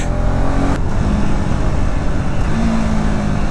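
A 2025 KTM Adventure 250 motorcycle engine roars loud and close, holding a steady drone with a brief break and pitch change as gears shift via the quick shifter, then pulling on again.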